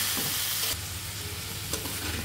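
Local cucumber sizzles as it is stir-fried with spices in a pan, a loud steady frying hiss with a couple of brief stirring scrapes.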